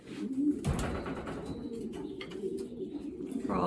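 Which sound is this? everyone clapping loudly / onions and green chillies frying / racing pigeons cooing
racing pigeons cooing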